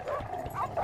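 Dogs hunting a large animal by instinct, lunging at its legs and neck, give out a run of high whining yips and whimpers over a steady rumble of background noise.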